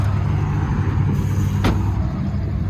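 Steady low idling rumble of a 2013 Nissan Qashqai 1.5 diesel engine close by, even and continuous, with one brief sharp click partway through.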